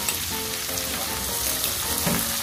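Shrimp sizzle steadily in a hot pan of reduced garlic sauce, a close, even frying hiss with faint stirring scrapes throughout and no voices.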